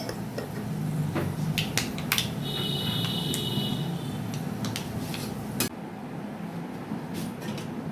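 Five-spice (panch phoron), fennel seeds and dried chillies fry in a pan for tamarind pickle, a steady soft sizzle broken by scattered clinks and scrapes of a spoon against the metal.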